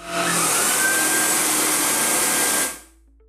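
A Dreame Z20 stick vacuum cleaner whirs loudly and steadily at close range in turbo mode, then cuts off abruptly near the end, leaving faint quiet.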